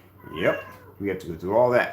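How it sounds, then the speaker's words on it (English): A pet cat meows in a home, several loud drawn-out meows close by, with a person's voice talking briefly alongside them. "That's my cat back there running back and forth acting crazy"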